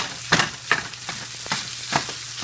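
Chopped imitation crab sizzles in a hot pan while being stirred, a steady frying hiss broken by several sharp scraping stirs, close and without voices.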